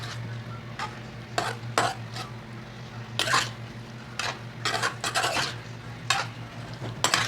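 Chicken curry ingredients, Nepali style, stirred in a pan with a spoon scraping in irregular bursts over a low steady sizzle and kitchen hum, no talking.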